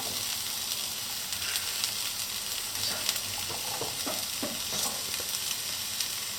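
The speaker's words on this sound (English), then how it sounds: "Then we add the pepper and the zucchini. And we have to mix everything" Chopped pepper and zucchini sizzle steadily in a hot pan for a vegetable risotto, with a spoon scraping and stirring through them at irregular intervals; constant frying hiss, no voices.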